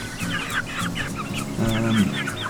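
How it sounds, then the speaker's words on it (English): A rooster with fine colouring clucks and calls close by in a backyard chicken flock, a run of short throaty bursts with a longer harsh call near the end. "This is the rooster I'm going to keep."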